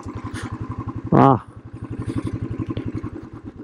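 Motorcycle engine idling with a steady low pulsing throb, used for off-road riding near a lake, with a brief burst of a man's speech over it.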